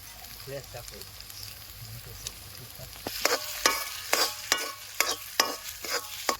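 Crushed garlic hits a frying papad curry in a village kitchen. A soft sizzle turns into loud rhythmic stirring scrapes that repeat about twice a second, with faint talk early on.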